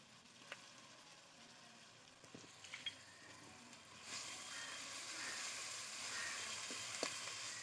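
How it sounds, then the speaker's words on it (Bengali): Ginger and garlic paste frying in a pan for a pointed gourd and shrimp curry, a quiet sizzle with a few small ticks that swells into a louder, steady hiss halfway through. "আদা আর রসুন খুব ভালো করে ভেজে নেব, যতক্ষণ পর্যন্ত ভেজে নেব আর যতক্ষণ না কাঁচা গন্ধ চলে যাচ্ছে"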